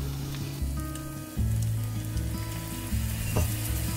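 Pork seasoned with fish sauce sizzles and crackles in a hot pan with steady frying noise, stirred now and then with soft scraping, close and continuous with no voices.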